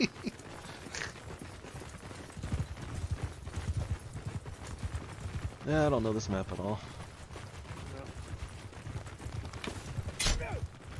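Horse hooves clip-clop at a gallop in the medieval combat game Mount & Blade II: Bannerlord multiplayer, a steady quiet rhythm under casual talk and laughter from players.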